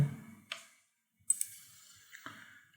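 Computer mouse clicks while setting up Cloud NAT in the Google Cloud Platform console: a few sharp, isolated clicks spaced about a second apart, close and crisp against near silence.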